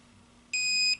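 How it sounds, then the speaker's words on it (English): A continuity tester gives a steady electronic beep as its probes connect through a flipped rocker switch from the red input to the red output terminal. The single beep is loud, close and lasts about half a second after quiet. "it beeps because the wire is going through the switch"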